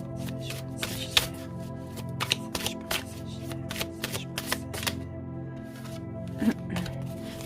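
Unlaminated tarot cards shuffled by hand at close range, a steady dense riffling with repeated sharp slaps and flicks over about seven seconds, with no voice.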